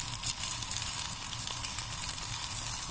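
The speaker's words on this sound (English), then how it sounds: "I just thought you may have wanted to hear the sizzle" Carbonara sizzling in a hot pan, a steady bright crackle of frying with small irregular pops, close and continuous, with no voices.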